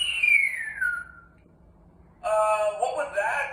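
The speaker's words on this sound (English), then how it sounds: "That whistle is still ear grating." An electronic Bop It toy emits a shrill descending whistle through its loud built-in speaker, followed by a brief lull and then a burst of bright, harsh electronic tones and jingle sounds, close and piercing.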